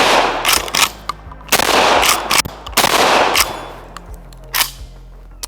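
Stevens 320 shotgun fires several loud, sharp blasts at irregular intervals, each with a short ringing decay, the later shots a little fainter.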